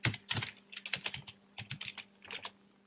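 Quick bursts of close computer keyboard typing as a password is entered, a rapid, uneven run of crisp key clicks with short pauses between groups.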